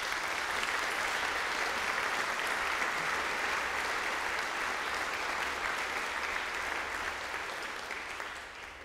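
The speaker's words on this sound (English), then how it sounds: "May we give them a round of applause." Audience applause at a school presentation evening, a dense, steady wash of many hands clapping throughout that thins slightly toward the end.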